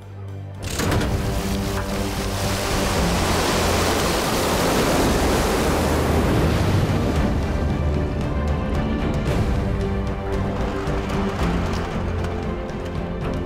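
Intense floodwater roaring and rushing, a loud continuous broadband wash that holds steady throughout with no voices.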